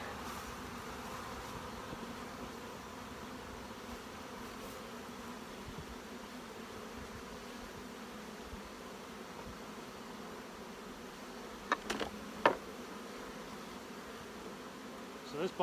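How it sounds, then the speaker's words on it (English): Honey bees shaken from hive frames into a tub give off a steady, dense drone that lasts throughout. A few sharp knocks near the end come from the frames being handled. "So I'm shaking the bees down"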